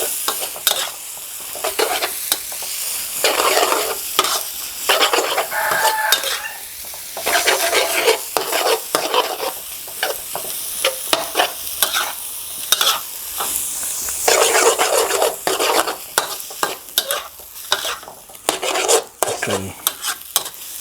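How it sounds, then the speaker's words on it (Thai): Glass noodles with egg and cha-om being stir-fried in a pan over medium heat, with a steady loud sizzle and constant scraping, stirring strokes throughout, no voices. "ผัดนะครับทุกอย่างให้เข้ากันครับ"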